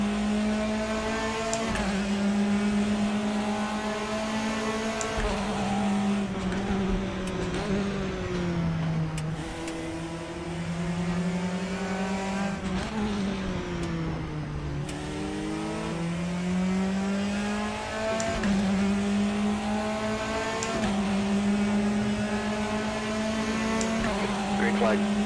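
A Praga R1 race car engine at the Red Bull Ring in the game RaceRoom holds a loud, steady drone. Its pitch rises and dips through several gear changes, and a voice talks over it.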